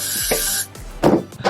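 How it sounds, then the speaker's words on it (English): Wig adhesive sprayed from a can in short close bursts, a hissing spray followed by a couple of quick puffs. "I'm gonna spray a little more"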